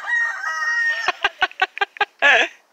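A chicken on a farm gives a drawn-out crow, then a quick run of six or seven sharp clucks and a final loud squawk, close and clear with no talk.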